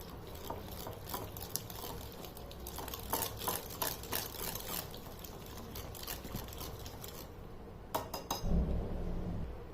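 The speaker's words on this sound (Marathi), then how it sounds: "दही आणि दलिया मिक्स करून घ्यायचा।" Sour yogurt and broken wheat stirred together in a bowl for dhokla batter, soft wet patter and light clinks of a spoon against the bowl, close and quiet, continuing steadily.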